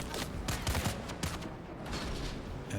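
Gunfire in the video game Dune: Awakening crackles in quick, faint volleys of sharp shots, spread unevenly across a few seconds with a dense background of game noise.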